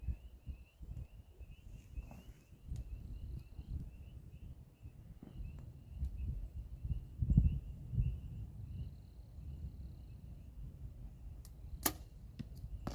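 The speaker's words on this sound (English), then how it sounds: "There was the first arrow." An arrow shot from a bow at a target 40 yards away outdoors, heard as a single faint, distant thump amid steady outdoor ambience with insects and birds, no talking.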